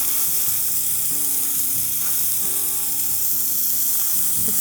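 Alligator meat coated in coconut sugar sears in a hot pan, a loud steady close sizzle and crackle throughout, with faint stirring scrapes and no voices.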